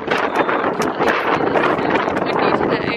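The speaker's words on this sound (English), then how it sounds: "Oh, it's so windy today." Strong gusts buffet a microphone in an outdoor parking lot, a continuous loud, rough roar of wind noise with no break throughout.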